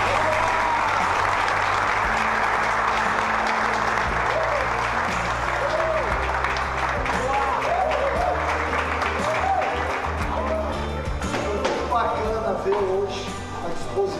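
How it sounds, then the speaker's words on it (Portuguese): Dense, sustained applause rolls steadily throughout, broad and even, with voices audible beneath it. "Dá os parabéns a todos e uma salva de palmas pela atuação de vocês."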